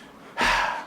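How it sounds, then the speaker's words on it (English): A sick character in the survival game Miasmata takes a single sharp, breathy gasp that swells suddenly and then fades. It is close and fairly loud, with no talk over it. "we're sort of panting and breathing like crazy because, well, we're sick"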